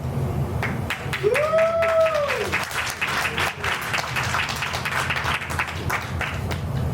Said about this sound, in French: j'aimerais que vous les encouragiez avec vos acclamations